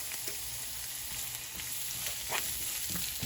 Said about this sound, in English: while that is frying up